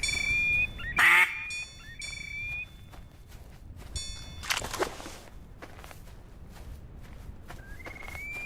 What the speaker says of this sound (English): if any ducks are flying